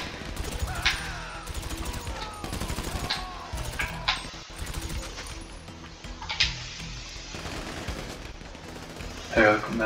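Gunshots in GTA 5 Online survival mode, a rapid crackle of shots and machine-gun bursts scattered under someone talking, with a few sharper bangs standing out near the end.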